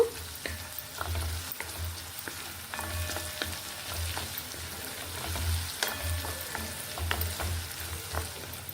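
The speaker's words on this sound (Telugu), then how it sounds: "ఇంకి కొంచెం బాగా వేయించుకోవాలండి. అల్లం తేమ లేకుండా చూసుకోవాలి." Ginger sizzles in a pan while being fried for pickle, a steady close crackle broken by recurring low scraping thuds of stirring at a loose, regular pace, with no talking.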